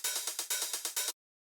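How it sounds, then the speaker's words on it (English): Programmed closed and open hi-hats from a drum rack in an electronic dance track tick out a crisp, even pattern of about eight hits, then stop dead into silence. "I have these two hi-hats, this closed one and this open one, and I put them in a drum rack together"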